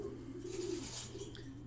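A single bird, apparently a pigeon or dove, coos softly and fairly close against a faint steady low background hum, with no voices present.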